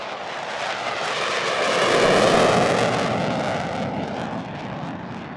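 A NASA test aircraft climbs just after takeoff, its engine a loud, broad roaring rush that swells toward the middle and eases slightly, heard alone without voices.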